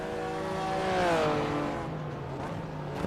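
In the iRacing video game, a BMW M race car engine is pushed to the limit. It gives a loud, high revving whine whose pitch climbs and then falls, with a constant road roar underneath.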